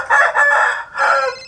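A rooster crows loud and near, one brief drawn-out call with a couple of pulses, heard alone.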